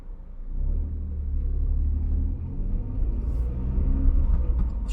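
A car pulls away on a driving test, its engine a steady low rumble that stays loud and close throughout with no talk over it.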